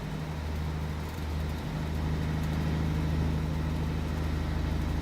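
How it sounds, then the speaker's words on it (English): Steady truck engine drone from the Alaskan Road Truckers video game, a continuous low hum with a slight dip near the start, heard alone without talk. "What do you think of the truck sound?"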